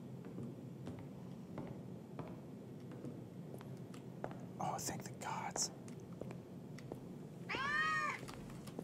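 A house cat meows indoors with a drawn-out, wavering call near the end and a couple of brief chirps earlier, heard over soft whispering and room noise.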